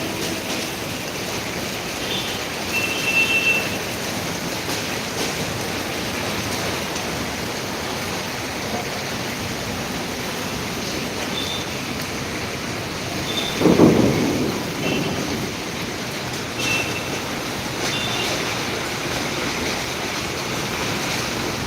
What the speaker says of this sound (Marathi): भरपूर पाऊस चालू आहे मित्रा